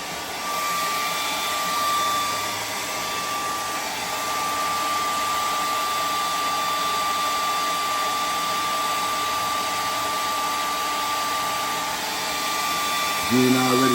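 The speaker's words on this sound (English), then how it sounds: "I'm gonna put the blow dry on it" A hair dryer blows hot air onto an RC car's nitro engine to warm it, a loud, steady whirring hiss that runs unbroken throughout, with a brief knock near the end.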